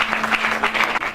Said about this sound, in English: You can clap your hands if you want to clap.